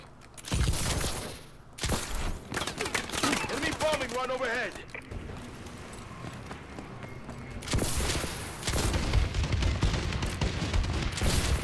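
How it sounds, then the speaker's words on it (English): An enemy bombing run in Call of Duty: Advanced Warfare brings dense rumbling explosions and bursts of gunfire, loud at the start and again near the end, with a voice talking and in-game voices between. "Enemy bombing run overhead."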